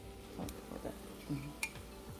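A metal spoon is lifted out of a pot of gravy for shepherd's pie, giving faint clinks and knocks against the rim, a couple of sharp taps over a quiet kitchen background.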